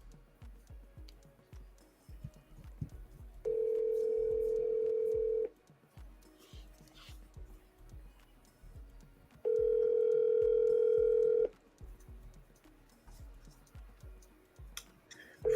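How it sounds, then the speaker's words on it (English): A telephone ringback tone plays while a call is placed, two steady, loud, evenly pitched tones about two seconds each, separated by a pause of several seconds, with faint clicks and ticks underneath. "Let's call Peter here"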